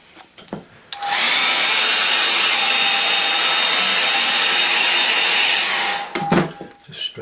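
A hair dryer runs steadily for about five seconds to dry wet watercolour paint, a loud constant whoosh with a faint whine that starts and stops abruptly, with small handling noises before and after.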